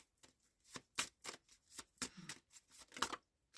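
Oracle cards being shuffled by hand during a shadow-work reading, a steady series of soft papery riffles and slaps, fairly quiet and close, with no talking.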